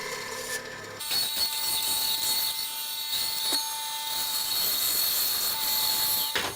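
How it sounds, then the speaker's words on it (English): A small, inexpensive bandsaw cuts the centre section out of a wooden board for an asymmetric mirror frame, a steady loud whine with a high tonal ring running continuously after a brief start, with no talk. "Then square up these marks on each side before heading over to the bandsaw to cut this section out."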